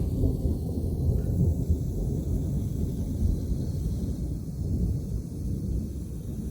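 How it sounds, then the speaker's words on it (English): Low, continuous rumbling thunder rolls on without pause, a deep steady roar with some wind noise and no voices. "Listen to that thunder."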